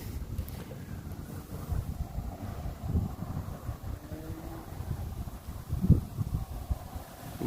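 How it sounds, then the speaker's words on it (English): Wind blowing outdoors at night, a steady low rumble and buffeting gusts against the microphone, loud and close, with occasional faint thumps and no speech. "That's why we're seeing, or you're hearing all that wind and seeing it"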